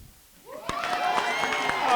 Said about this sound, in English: Can y'all please give a round of applause for me?